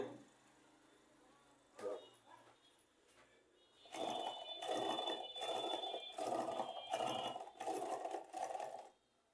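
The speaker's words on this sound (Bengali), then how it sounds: "দেখতে পাচ্ছেন তো অনেক সুন্দর সেলাই হচ্ছে" A new sewing machine runs in a series of rhythmic stitching bursts, starting quietly with a few taps and building into a steady, louder run of repeated pulses that ends abruptly.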